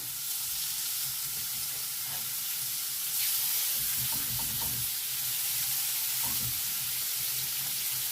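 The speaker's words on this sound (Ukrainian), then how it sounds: "Беремо замариноване філе і викладаємо на розігріту сковорідку." Steady sizzling of marinated chicken fillet frying in a hot pan, a constant crackling hiss with a brief louder burst partway through and light clinks of cookware.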